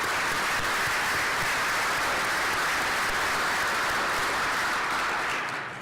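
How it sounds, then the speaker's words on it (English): An audience at an engineering alumni awards banquet applauds in a dense, steady burst of clapping that holds loud for several seconds before starting to fade. "Please join me in a round of applause."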